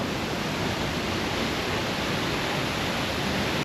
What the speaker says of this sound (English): All right, we made it down to the Rio Celeste waterfall.